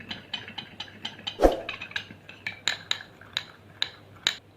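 A teeth-whitening paste being stirred with half a teaspoon of lemon juice in a small bowl, giving light repeated scraping and clinking strokes of a spoon at close range, with no talk.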